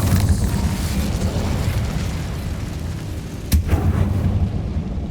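The Incendio fire spell is cast in the video game Hogwarts Legacy, heard as a dense rumbling burst of fiery noise that fades gradually, with one sharp impact-like pop partway through.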